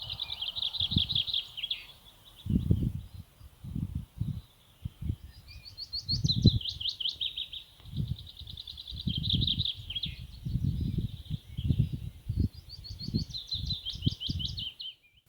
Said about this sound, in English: the Merlin app told us that this song was being sung by a willow warbler